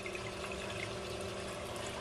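Water pouring over a weir overflow in a reef aquarium, about half an inch of flow, makes a steady, close, full-band rushing splash with no pauses and no voices.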